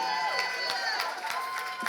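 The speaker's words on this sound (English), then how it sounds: "Please clap it up for my" A luncheon gala audience bursts into applause and cheering that fills the whole short stretch, with dense clapping and voices mixed with steady tonal sound underneath.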